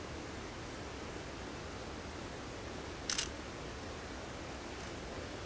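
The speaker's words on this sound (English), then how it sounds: "let's take a picture of this beautiful waterfall" A waterfall pours steadily, a broad, even rush of water that never changes, with one brief click near the middle and no voices.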